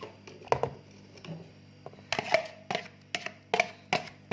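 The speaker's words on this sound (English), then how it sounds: "Now whisk this together as well." Mashed bananas are whisked into banana cake batter in a bowl, giving scattered knocks and scraping clicks close by, sparse at first and then more regular taps, with no talk.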